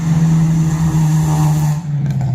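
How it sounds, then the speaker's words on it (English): A car engine revs hard and steadily outdoors at an RC jet flying field, a loud sustained drone close by that dips briefly near the end. "It's a car."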